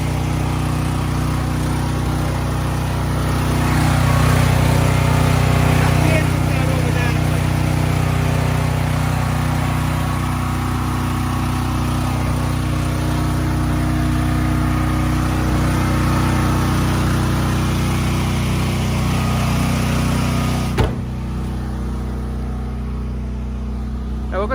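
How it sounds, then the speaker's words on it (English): A Duromax home generator runs steadily with a loud, continuous engine drone and low hum, swelling slightly in the first seconds, then holding even until a sharp click near the end. "Now the generator is running. And it's giving us the power we need."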